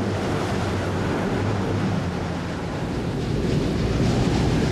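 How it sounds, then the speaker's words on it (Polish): Storm wind and heavy waves at sea around a ferry, a steady, loud roar of surf and gusting wind with a deep low rumble and no letup. "Wiatr zrywa grzbiety fal."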